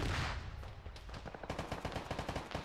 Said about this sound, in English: Some sort of cannon fire across the river into the trench line.